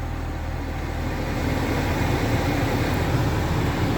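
A 2011 Mini Cooper's blower motor running as a steady broadband whoosh of airflow, rising slightly partway through and then holding constant, close and fairly loud.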